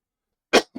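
A lecturer coughs once, a sharp close burst, followed a moment later by a softer throat-clearing sound in an otherwise silent room.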